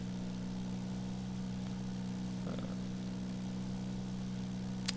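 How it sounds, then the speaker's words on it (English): Propeller plane engine held at 2050 RPM in the X-Plane flight simulator, a steady low droning hum throughout, even and unchanging, with a faint click near the end and no talking. "Now set the power to 2050 RPM."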